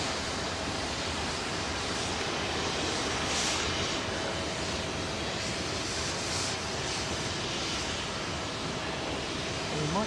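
Aircraft at London Heathrow's runway 27L, a steady broadband jet roar that holds loud and constant throughout, rising slightly mid-way as the plane passes, with faint talk beneath.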